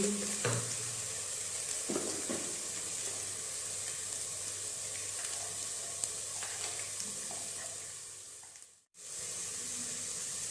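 Onions frying in a pan with ginger garlic paste and red chili, a steady close sizzle with occasional stirring scrapes, unbroken for about nine seconds before a sudden brief cut.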